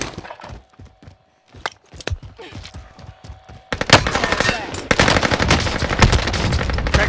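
Rapid automatic gunfire from a video game shooter, sparse scattered shots and thuds at first, then a dense, loud, continuous burst of firing and impacts filling the second half.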